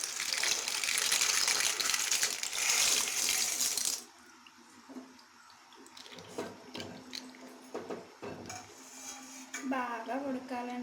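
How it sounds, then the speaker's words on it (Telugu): Dry pasta tipped into a pot of heated water on a home stove, opening with a loud rushing gush that stops abruptly, followed by softer clinks, splashes and light handling sounds close by. "వాటర్ వేడెక్కిందండి, ఇందులో పాస్తా వేసేసుకోండి."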